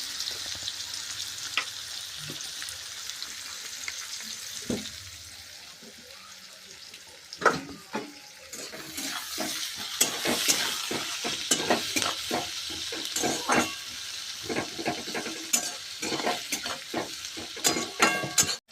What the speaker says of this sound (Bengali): এবার এই তেলের মধ্যে আমি কেটে রাখা পেঁয়াজগুলো দিয়ে দেব। পেঁয়াজগুলোকে আমি লাল লাল করে ভেজে নেব।